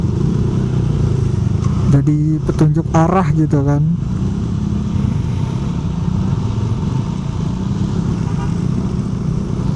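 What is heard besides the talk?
loud motorcycle engine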